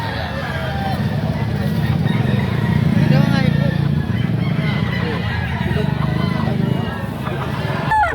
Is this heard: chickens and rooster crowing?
yes